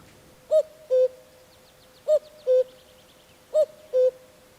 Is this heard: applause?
no